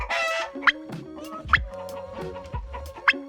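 A hen being asked about hatching her eggs clucks in short bursts, three sharp calls rising above a busy background of low noises and murmurs, close to the microphone.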